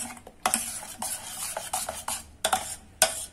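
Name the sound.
stirring and mixing date-tamarind chutney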